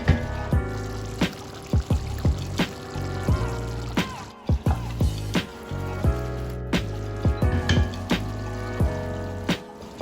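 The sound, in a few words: hot water poured into thick onion-tomato sauce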